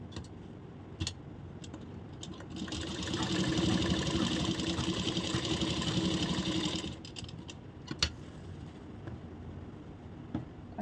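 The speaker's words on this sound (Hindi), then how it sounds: "बॉटम और जो मेन फैब्रिक है इसको हम चारों तरफ से सिलाई करेंगे।" A sewing machine runs all around a blouse, joining the bottom piece to the main fabric: a steady, moderately loud whir for a few seconds between quieter stretches of handling and scattered clicks.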